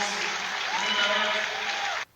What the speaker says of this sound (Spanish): Vemos a toda la gente, sí, de pie, aplaudiéndole.